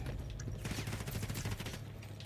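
Dense bursts of gunfire in Call of Duty Modern Warfare 3 during a multiplayer match with sniping, rapid overlapping shots forming a continuous loud barrage with no voices.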